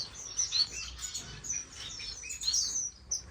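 Finches chirp and tweet in a bird room, bright high calls overlapping in quick, irregular bursts that stay fairly close and steady throughout.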